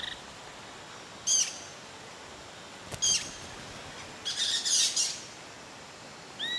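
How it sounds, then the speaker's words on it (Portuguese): White-eared parakeets in a flock in the treetops of southern Bahia's forest give short, sharp chirping calls in scattered bursts near dusk, over a quiet ambient hush. "os pássaros se reúnem no alto das árvores, como um bando de tiribas de orelha branca"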